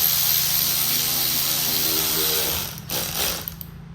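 Ratchet with an 8mm socket snugging headlight bolts on a Chevy/GMC C/K square-body C30 pickup, rapid clicking pawl over steady background hum, easing off near the end.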